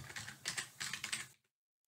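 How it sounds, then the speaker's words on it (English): Quick bursts of typing on a computer keyboard, several rapid clusters of close key clicks lasting about a second before stopping abruptly. "and type in services.html"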